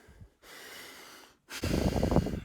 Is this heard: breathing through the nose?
yes